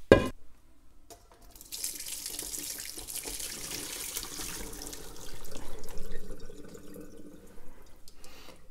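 Ginger water from candied ginger slices is strained, pouring and splashing into a vessel as a steady liquid rush that swells and fades over several seconds, close by, after a sharp opening clink.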